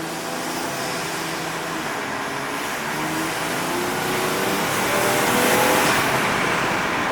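Toyota Soarer engine fitted with an HKS intake, heard as a steady, loud broadband roar that builds slightly toward the end, rough and noisy like a close revving engine with no voices.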